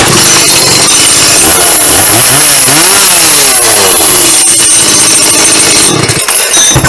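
Stihl MS 180 chainsaw running after a carburetor repair, its small two-stroke engine loud and close, revving up and down in several swells before settling.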